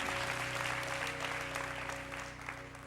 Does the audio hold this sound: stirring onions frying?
no